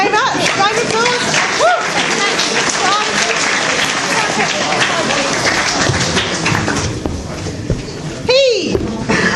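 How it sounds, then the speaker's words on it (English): A round of applause from a pitch-session audience, loud continuous clapping mixed with cheering voices and chatter, tapering slightly before a few louder thumps near the end. "Round of applause."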